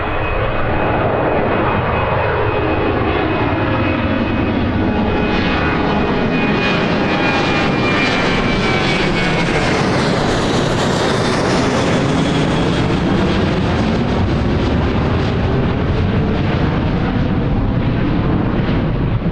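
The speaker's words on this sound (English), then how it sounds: "To have an EasyJet going out to depart." An EasyJet airliner departing Birmingham airport, a loud, sustained jet engine roar that swells and shifts in pitch as the aircraft passes, continuous for the full length.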